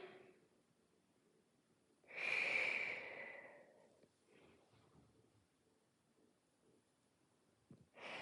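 A single strong breath during a home total-body workout warm-up, a loud breathy exhale or inhale of about a second, then quieter softer breaths and rustling.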